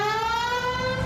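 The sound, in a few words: siren in the video game L.A. Noire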